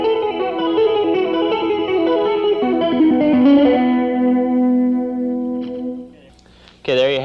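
An electric guitar plays a lick with a clean, chimey tone and no distortion, ringing notes sustaining and fading before a brief louder strum at the end.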